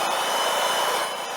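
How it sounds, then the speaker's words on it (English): A Milwaukee M18 compact blower roars steadily at close range, pushing air across damp morning leaves in one continuous, even blast with no speech. "You want to rake with your leaf blower."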